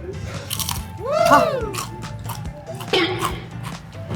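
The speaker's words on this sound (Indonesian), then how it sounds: "Kalian denger ya, ini tes crispy nih. Tes kriuk." Loud, crisp crunching bites into crispy fried skin with chili sauce, close to the mic, several crackly crunches in a row with faint voice-like sounds between.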